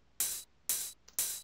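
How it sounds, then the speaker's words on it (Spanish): A hi-hat sample layered with ride cymbals in a 122 BPM trance production hits three times in a steady rhythm, each a bright, hissy wash that rings briefly, with a faint extra tick between the last two. "Un hat, que en realidad es la mezcla entre rides y un hat."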